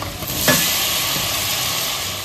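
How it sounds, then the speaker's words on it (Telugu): Chopped tomatoes tip into hot frying butter in a pan for restaurant-style mutton kadai, setting off a loud, close, steady sizzle and hiss after a brief stirring clatter. "బటర్ ఫ్రై అయిపోయిన తర్వాత దీంట్లో మనం ఇది టమాటో కట్ చేసి పెట్టుకున్నాం కదా, అది వేసేస్తున్నాను."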